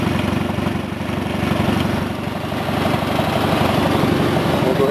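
Engine of a 140 idling steadily, a close, continuous low throbbing chug with an even pulsing rhythm and no voices over it.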